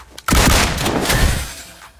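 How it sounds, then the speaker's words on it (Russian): A DBS shotgun firing in PUBG Mobile's Metro Royale mode, a loud close blast with a decaying boom and rattle lasting about two seconds. "Обычно хватает 2 выстрела."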